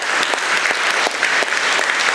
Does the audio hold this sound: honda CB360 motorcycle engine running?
no